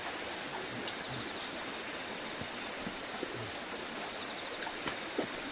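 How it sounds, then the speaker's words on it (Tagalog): Continuous rushing water flows steadily, a broad even wash of stream noise with faint scattered clicks and no voices. "Naririnig nyo yung agos ng tubig"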